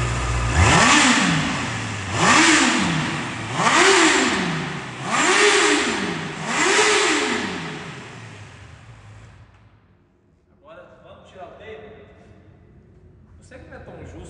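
A Honda four-cylinder motorcycle engine, warmed up and with a non-original exhaust, revs up sharply five times in a row, each rise and fall loud and close, then settles to a quieter idle with faint voices.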